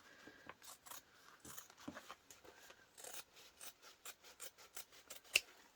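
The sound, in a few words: scissors trimming fabric for sewing a console case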